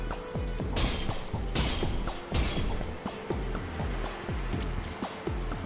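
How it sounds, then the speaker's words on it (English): Repeated hammer smashes from the video game Atlyss, a string of heavy thudding hits with bright crashing tails at an even rhythm, loud and close over a dreamy synth backdrop. "they're very vapor wavy for what is, you know, me smashing a hammer"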